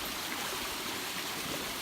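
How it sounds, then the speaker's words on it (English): A small unofficial waterfall stream in Colorado rushes steadily, a close, continuous broadband wash of flowing water with no pauses and no voices. "As far as I can tell, it's not an established waterfall."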